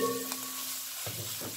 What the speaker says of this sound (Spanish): Le voy a echar un poquito de cerveza y un poquito de vino seco.